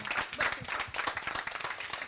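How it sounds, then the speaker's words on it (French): An audience applauds a speaker at an evening event with a short, moderate burst of clapping from a modest crowd, close and lively for about two seconds. "Applaudissez-la quand même"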